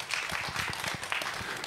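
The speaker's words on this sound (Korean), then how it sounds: "뜨거운 박수로 맞이해 주시기 바랍니다" Audience applause welcoming two speakers, a professor and a student, at an economic security symposium in a lecture hall; a steady, moderately loud wash of clapping from many hands runs throughout with no voices on top.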